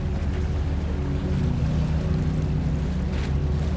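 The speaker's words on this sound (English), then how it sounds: "The engines lower their tone slightly." Ferry engines running at night on the water, a low steady droning hum with a faint vibration, continuous and moderately quiet, with soft water wash over it and no voices.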